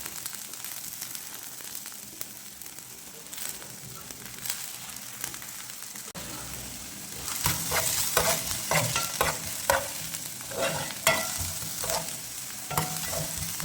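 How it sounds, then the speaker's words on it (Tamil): Onion and garlic frying in oil for mint chutney, a steady low sizzle at first, then louder crackling and sharp scraping clicks as a spoon stirs the pan, close and without talk. "வெங்காயம் போட்டு தாளிக்கும் போது தாளிச்சு போட்டிங்கன்னா நல்லாயிருக்கும் சாப்பிட்றது"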